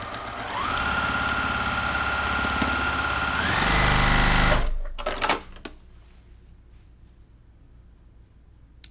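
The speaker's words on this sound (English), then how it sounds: "And then I'm going to just sew with 1/4 inch seam." Sewing machine stitching a quarter-inch seam on a flea market quilt block made with triangles on a roll, a steady close whir for about four seconds that slows and stops, followed by a few handling clicks and quiet room tone.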